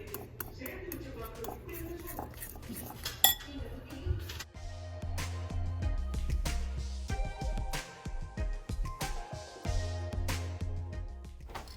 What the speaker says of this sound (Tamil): ஸோ இதெல்லாம் சேர்த்து நல்லா மிக்ஸ் பண்ணிக்கலாம்